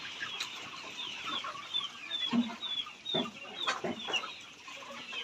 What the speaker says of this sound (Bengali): এখানে আমাদের চার হাজারের মতো মুরগি আছে